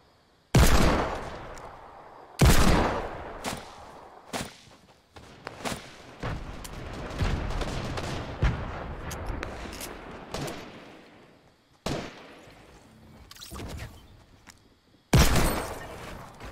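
Desert Eagle pistol shots in Fortnite crack out loud and close as single heavy reports at irregular intervals, each followed by a brief echo, with quieter gunfire and action between them.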